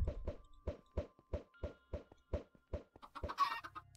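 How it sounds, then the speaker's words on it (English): Chicken in the Minecraft video game, giving a steady run of short, evenly spaced clucks, clear and close, followed by a brief busier burst of game sound at the end, with no talking. "Hey, look, a chicken!"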